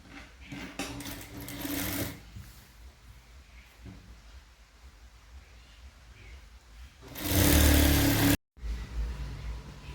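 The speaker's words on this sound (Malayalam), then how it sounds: "ആദ്യം നമ്മൾ ഈ 2 സൈഡും നമ്മൾ 1/2 ഇഞ്ചിൽ മടക്കി അടിക്കുകയാണ്" A sewing machine stitches a half-inch folded hem on formal trousers in two loud, steady runs, one briefly near the start and a longer louder burst near the end, with quiet handling between.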